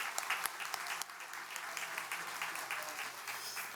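A church congregation applauds during a Sunday morning worship service, a continuous crowd of hands clapping together at moderate distance, even and sustained throughout.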